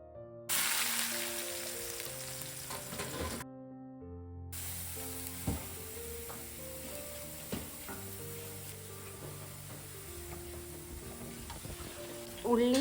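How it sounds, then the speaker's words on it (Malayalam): Onions fry in coconut oil in a pan, with a soft continuous sizzle and occasional clinks of a utensil, under background music. "ഉള്ളിയൊക്കെ വഴന്നു"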